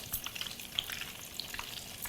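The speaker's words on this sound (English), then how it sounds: "it'll start frying slowly" A floured beef cutlet fries slowly in a pan, a soft, steady sizzle with faint crackles and pops, quiet and close, with no voices.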